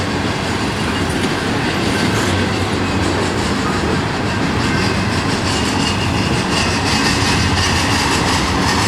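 Norfolk Southern intermodal freight train rolling south past a road crossing, a loud, steady rumble and rattle of wagons with clickety-clack and faint wheel squeal throughout, no speech.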